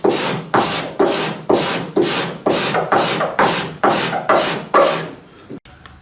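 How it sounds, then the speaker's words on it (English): A cabinet scraper shaves epoxy high spots off a wooden oarlock block for a boat, making about eleven loud, close, raspy strokes in a steady rhythm roughly twice a second, then stopping; no voices. "I think I'm going to take a cabinet scraper to that. Scrape off the high spots."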